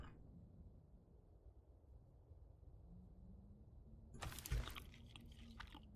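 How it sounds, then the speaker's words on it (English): Eating food in The Long Dark survival game: a low rumbling ambient bed gives way near the end to a brief burst of close crunching and chewing, loud and alone with no talk. "let's go ahead and eat some food."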